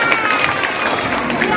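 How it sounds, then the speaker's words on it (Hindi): An annual school function audience applauds, a dense steady wash of clapping from many hands at even loudness throughout, with crowd murmur mixed in. "इनकी खूबसूरत तकरीर के लिए जोरदार तालियां हो जानी चाहिए।"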